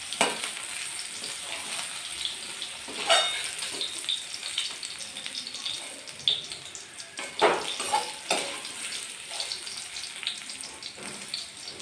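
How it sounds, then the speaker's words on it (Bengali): Jackfruit frying in a pan, a loud continuous sizzle broken by several sharp scraping stirs that come in irregular bursts across the whole stretch. "এঁচড়টা বেশি ভাজবো না এবার তুলে নেবো এঁচড়টাকে"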